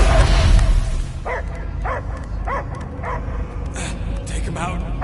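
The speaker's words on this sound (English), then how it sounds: "I hear only barking" A dog gives a run of short, evenly spaced barks, mixed with a dramatic scene's background sound and voices after a loud opening.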